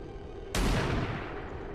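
Gunfire in the strategy video game XCOM arrives as a single sudden loud blast that decays over about a second on top of steady game background noise.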